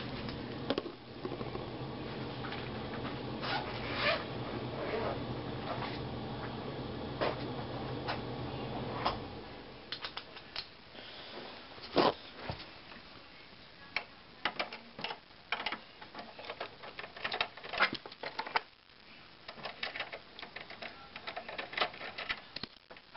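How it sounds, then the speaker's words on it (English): A small screw being backed out of the side panel of a Dell Dimension 4100 desktop computer: close, quiet ticking and clicking with scattered sharp taps over a low hum, no talking. "I'm going to show you that by removing this little screw in that side panel."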